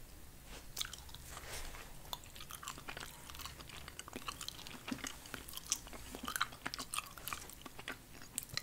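Sticky, chewy orange retro candy is chewed close to the microphone, quiet wet smacks and soft crunching bites repeating irregularly throughout.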